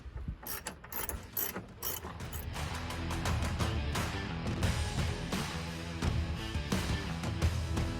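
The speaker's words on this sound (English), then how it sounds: "so you go in behind and you take the nuts off" Rapid ratchet clicking as bumper nuts are backed off a Ford Ranger, a steady busy mechanical chatter in bursts that runs continuously at close range.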